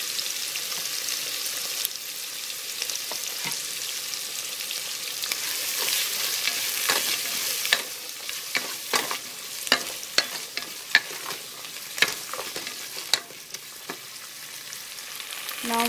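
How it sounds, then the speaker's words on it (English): Ginger garlic paste sizzles steadily as it fries in a pan for vegetable biryani, with sharp clinks and scrapes of a spoon stirring through the hiss, close and alone. "Then we have to add the ginger garlic paste, 2 to 3 tablespoons we can add"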